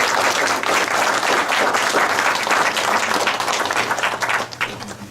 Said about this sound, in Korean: 우리 하나님께 먼저 예배를 받으신 영광을 박수로 돌려드리도록 하겠습니다.